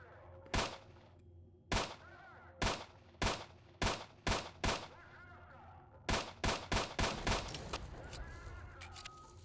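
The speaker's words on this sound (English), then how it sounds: "I was shooting the military guys." Rapid gunfire from a video game fight against military soldiers, loud sharp shots in irregular bursts, single cracks early then a quick cluster of repeated shots near the end, heard alone without talk.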